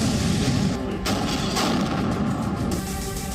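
Missile strikes and explosions hitting Mariupol, a dense continuous roar of blasts and rumbling fire with sharper bursts standing out, loud and sustained throughout with no clear pauses.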